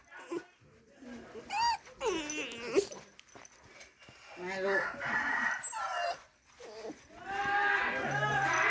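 A rooster crows across a rural Thai yard, its rising calls coming in several bursts amid a dog's barks and whimpers. People talk nearby throughout, and other farm animals add noise.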